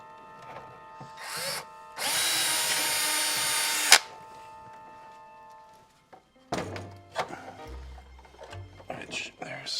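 A power drill bores holes in HasLab Proton Pack parts, one loud sustained whine of about two seconds ending in a thunk, then lighter handling clatter and low voices near the end.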